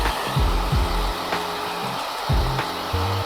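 A hair dryer blows steadily up close, its airflow pitch dipping and wavering as it is moved around.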